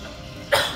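A single short, sharp cough from one person, close and fairly loud, rising suddenly out of quiet room tone and then trailing off.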